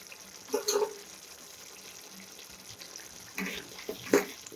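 Water pours into a soya chunks dish with spices in short, splashy bursts, two of them separated by quiet, set against a low room background.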